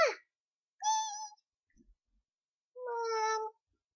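A kitten gives two clear, close meows, the second longer and drawn out, separated by a pause with a faint soft bump between them.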